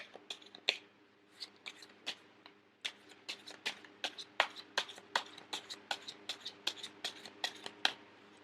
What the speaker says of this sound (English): I am going to shuffle until the first card pops out